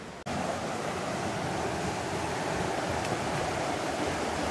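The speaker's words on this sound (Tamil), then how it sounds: "தண்ணி ஃபோர்ஸ் பாருங்கள் எவ்வளோ ஃபோர்ஸாக வருது அப்படின்ட்டு. செம்ம ஃபோர்ஸு தண்ணி." Water rushes with great force near a forest temple, a loud, dense, unbroken roar like a torrent that stays constant throughout, with no voices.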